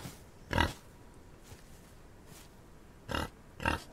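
Pigs in a farm pen in a video game give four short grunting oinks, two spaced apart early and a close pair near the end, fairly loud over a quiet background.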